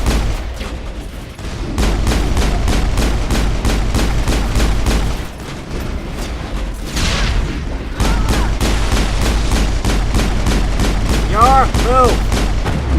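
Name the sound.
gunfire in a shootout, from the video game Mass Effect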